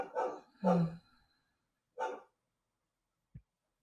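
A dog barks indoors, two quick barks followed by a third after a pause, then a single faint tap, moderately close in an otherwise quiet room.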